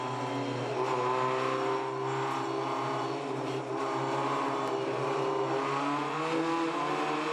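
SsangYong ute race cars at Pukekohe rev and accelerate, a steady engine drone with shifting pitch heard from onboard at moderate loudness.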